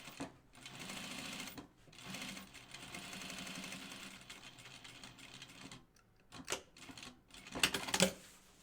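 A sewing machine stitching a Grainline Studio Tamarack vest, running in several steady bursts of rapid needle chatter separated by short pauses, with a few brief clicks and handling knocks near the end, fairly close and moderately quiet.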